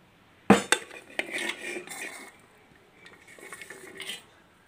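Chopped onions go into a pressure cooker already holding bottle gourd and potato pieces for a curry, giving a sharp metallic clank followed by lighter clinks and scraping of utensils against the pot, close and with no talking.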